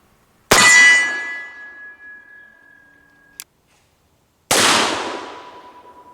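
An Uberti 1860 Army revolver fires two loud sharp shots a few seconds apart, each leaving a ringing metallic tail, with a small click between them.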